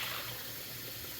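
A coconut milk mixture made from powder is poured steadily into a pot of rice, giving a continuous watery rush with no talk.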